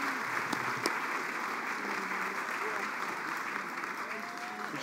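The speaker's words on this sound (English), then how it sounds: "Ladies and gentlemen, a round of applause for Karen Dufilho." Audience applause for an honoree at an alumni award ceremony, a steady wash of clapping held at moderate, somewhat distant level throughout, with faint voices mixed in.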